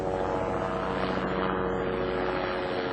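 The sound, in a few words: police helicopter flying outside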